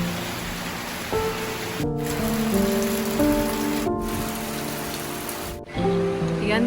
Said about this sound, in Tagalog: Grabe, sobrang lakas ng ulan sa labas.